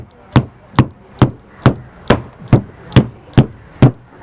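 Papadum dough being pounded by hand: ten sharp, heavy thuds in a steady rhythm about half a second apart, close and loud with no talk.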